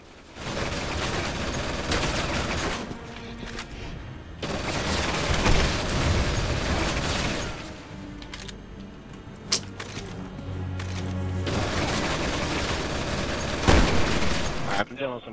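Dense gunfire from the Resident Evil 6 video game, in Chris's campaign played in co-op, with repeated loud bursts of rapid shots and booms running almost continuously and pausing only briefly, mixed with a player talking over the action.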